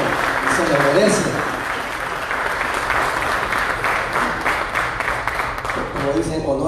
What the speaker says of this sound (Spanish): les pido un aplauso por la designación, porque muy bien se lo merece.